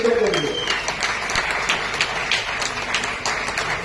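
An audience applauds at a public launch of eco-friendly electric autos for women in Mysuru, a dense, rapid clatter of clapping with voices talking over it.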